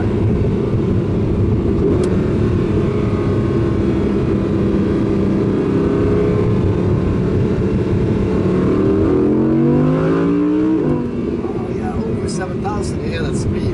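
An Audi R8 Coupé V10 revs hard toward 8,500 rpm on a test drive, its engine roaring loud and close from inside the cabin, rising in pitch before easing off, while people talk over it.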